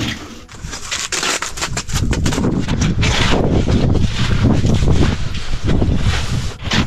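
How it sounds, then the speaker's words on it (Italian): Heavy mountain wind in the Dolomites buffets the microphone in loud, rumbling gusts, with crackling and rustling bursts throughout and no speech. "C'è parecchio vento"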